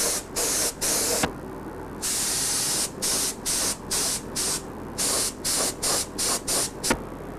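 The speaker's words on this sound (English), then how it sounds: "I'm spraying it very lightly." A spray gun lightly applying a colored finish: a couple of longer hissing blasts followed by a rapid run of short, evenly spaced bursts, close and crisp, with no talking.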